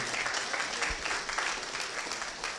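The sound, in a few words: applause at a portrait unveiling ceremony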